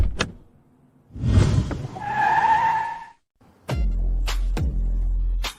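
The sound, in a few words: car skidding, tires screeching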